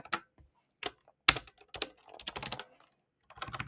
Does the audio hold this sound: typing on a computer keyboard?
yes